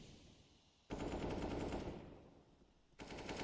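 Pistol gunfire crackles in a professional CS:GO match, a dense, roaring burst of shots lasting about two seconds, then a short pause and another burst, loud and close.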